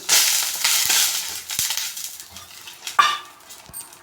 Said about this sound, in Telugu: కొద్ది ఎలక్కలు నాలుగు తీసుకొని ఇలా దంచుకొని వేసుకుంటున్నాను